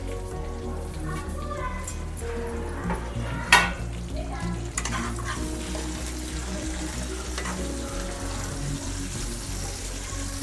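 Cumin, fenugreek and coriander seeds fry in a pan for a green chilli pickle, a continuous close crackling sizzle with occasional stirring knocks and one sharp clank, no talking.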